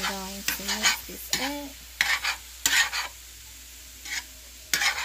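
Shrimp and delicate imitation crab meat are stirred in a hot pan, with bursts of scraping, sizzling strokes spaced out over quieter gaps, close up and with no talking.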